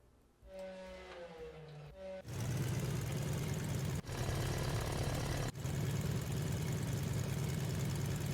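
A Stearman biplane's radial engine idles at quarter throttle, about 700 RPM, as a steady, loud, close drone after a brief quieter whine at the start, with two momentary dropouts.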